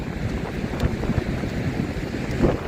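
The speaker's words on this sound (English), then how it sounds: "It is quite windy." Strong wind buffeting the microphone in a continuous low roar, with gusty rumbles and no voices.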